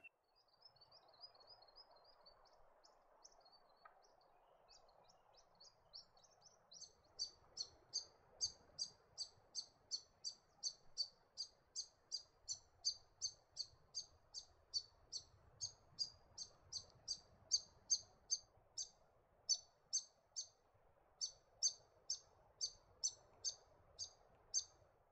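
Grey fantail calling around a lake near a country township, a long run of rapid, thin, high chirps repeated in a steady rhythmic series over faint background noise, fairly distant and soft.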